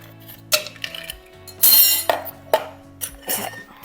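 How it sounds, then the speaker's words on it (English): Ice cubes dropped into a cocktail glass, a handful of distinct bright clinks and knocks spaced irregularly, close and clear with no talk. "Need some ice."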